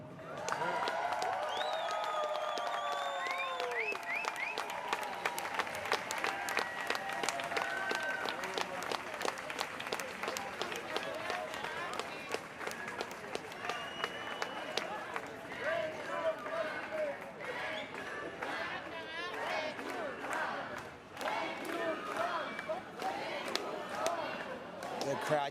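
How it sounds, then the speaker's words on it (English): A large outdoor crowd in Tel Aviv cheers and applauds for a long stretch, clapping rapid and dense, with shouts and chanting voices rising over it. "The crowd cheering, "Thank you, Trump," as far as you can hear in response to Stephen Witkoff."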